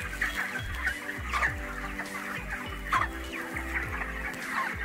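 Broiler chickens and roosters on a poultry farm cluck and call continuously, a dense flock close by, with a steady low mechanical hum running underneath.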